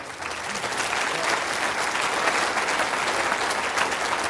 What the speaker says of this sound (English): How about an even louder round of applause for the A player who put the event together?